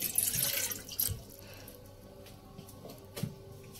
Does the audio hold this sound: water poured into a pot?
yes